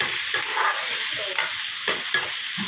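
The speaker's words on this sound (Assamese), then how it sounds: "এয়া মই লৰাই দি আছোঁ।" Potatoes and other food stirred in a hot cooking pan give a steady, close sizzle. Repeated scraping strokes of the spoon stand out against it.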